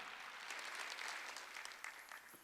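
A church congregation applauds during a Wednesday worship service, a dense, even patter of many hands clapping at low level for a couple of seconds.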